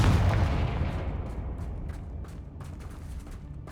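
A Confringo fire spell detonates in Hogwarts Legacy, a loud booming blast at the start that rolls into a decaying rumble, followed by faint scattered crackles.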